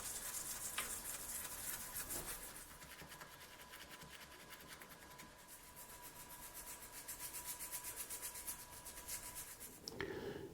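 Faint, continuous scrubbing and rubbing against the bark of an old hollow maple bonsai trunk runs steadily with a soft scratchy texture and a small clunk near the end, with no talking.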